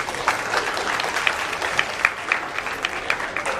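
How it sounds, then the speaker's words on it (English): A room of people clapping at a high school humanities symposium, a brief, even round of applause with a few louder individual claps poking through, no speech over it. "Let's see them up with one more round of applause."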